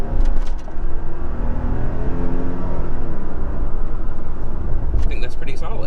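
A Toyota Tacoma TRD Off-Road 4x4 pickup with its V6 engine pulls hard under full throttle, a loud, continuous engine roar heard from inside the cab.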